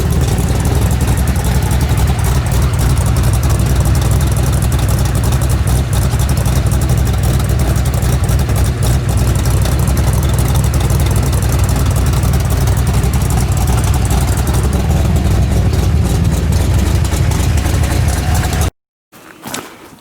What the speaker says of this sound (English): Oh, motor sounds pretty good. Except for that exhaust leak.